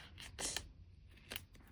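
Scissors snip through a Happy Planner journal page, two short crisp cuts spaced apart, close and fairly quiet with no talking.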